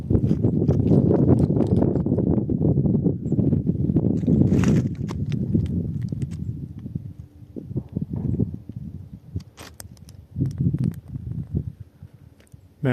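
A mountain goat scrambles away over loose, sliding desert rock on a ridge, a close, busy clatter of hooves and tumbling stones that thins into sparser, scattered knocks as it moves off.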